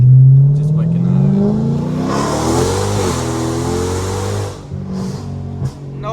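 A straight-piped widebody 2022 Dodge Charger revs hard, its loud mid-range engine note rising and surging for several seconds, with voices talking over the roar.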